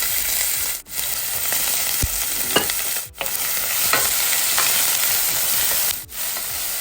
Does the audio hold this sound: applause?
no